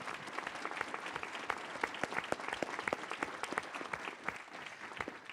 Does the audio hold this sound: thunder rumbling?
no